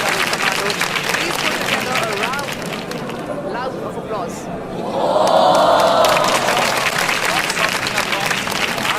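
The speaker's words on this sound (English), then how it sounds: "Please put together a round of applause." A large outdoor crowd at the Chennai air show applauding, dense clapping and cheering that swells partway through, with someone talking over a loudspeaker across much of it.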